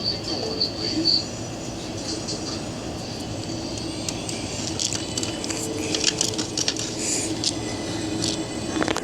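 An R142A New York subway 6 train runs between stations, a steady rumbling roar with faint high squeals and rattles, close and continuous, with no voices.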